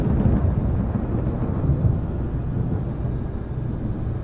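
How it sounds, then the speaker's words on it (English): Thunder from a storm in Microsoft Flight Simulator 2024 rolls as a continuous low, heavy rumble, loud and steady throughout with no talking. "Man, listen to that thunder."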